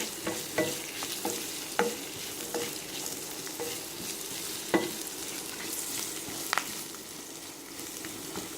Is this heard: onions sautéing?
yes